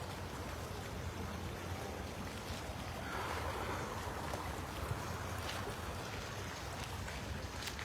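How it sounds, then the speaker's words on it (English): Steady broadband rush of running water outdoors, continuous and fairly even in level, with no voices, like a stream or flowing water heard up close in a natural setting. "I love the sound of running water."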